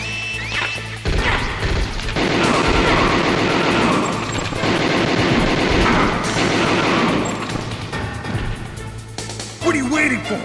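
Dense bursts of gunfire and heavy impacts fill a battle in Metal Gear Solid (1998), loud and continuous for several seconds, with shouted voices and game effects around it.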